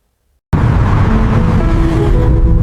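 A car starts suddenly after silence, with a loud, steady engine and road rumble held close, as if riding inside or beside the moving vehicle, with no talk.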